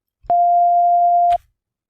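Single sustained synth note from an FL Studio Flex plugin with its layers pitched up five semitones, a pure, steady tone held for about a second, with clicks at the start and end.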